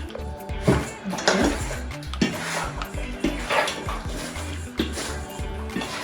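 Chicken strips tossed with corn flour in a bowl produce irregular clinks, knocks and scraping of utensil against the dish, fairly close and loud with uneven rhythm.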